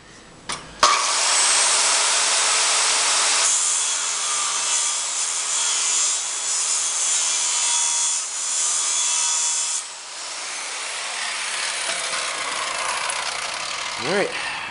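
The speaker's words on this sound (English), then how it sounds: "circular saw makes pretty quick work of that" A circular saw cutting steel knife blade stock, a loud, close, sustained high whine and grinding that shifts in pitch partway through, then winds down toward the end.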